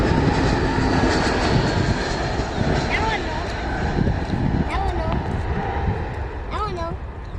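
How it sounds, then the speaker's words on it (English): A Spirit Airbus A321 making an emergency landing at Miami gives a steady, loud engine roar that fills the whole stretch, while excited voices call out over it. "Emergency landing."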